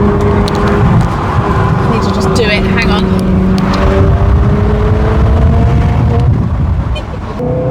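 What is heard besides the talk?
Ferrari 360 Spider engine revving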